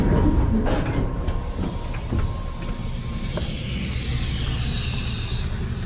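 An MBTA Commuter Rail train runs along the tracks, a loud steady rumble with hissing and a few mechanical clicks and clacks, heard from close by, with no talk.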